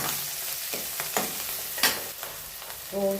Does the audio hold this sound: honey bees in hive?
no